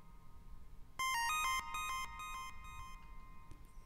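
A square wave synth at a 75% duty cycle, drenched in reverb, plays a short bright melody of clean stepped notes that ring out and fade into a soft wash.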